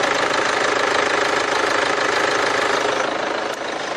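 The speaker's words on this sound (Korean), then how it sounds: "엔진 소음 먼저 들려드리면은" The diesel engine of a large single-owner used car idles in a continuous, loud, close rattling clatter with a steady knocking rhythm, no voices over it.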